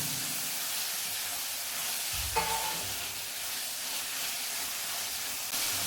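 Mixed vegetables with curry leaves cooking in a pan for sambar, giving a steady sizzling hiss with a brief clink of a utensil partway through.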